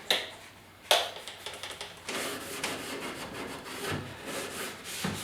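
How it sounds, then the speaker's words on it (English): An abrasive Scotch-Brite pad scrubs across the surface of an old wooden desk, giving quiet, uneven rubbing strokes with a couple of sharper knocks near the start, close up and without speech. "Finding the only way to really get this clean is to use a Scotch-Brite."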